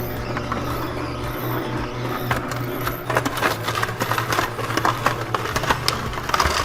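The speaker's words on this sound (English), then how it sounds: "So I'm going to use the slow speed mixer for this example." A slow speed juicer grinds hard vegetables such as carrots, a steady low motor hum under irregular crunching and squeaking that grows louder and busier partway through, with no voices.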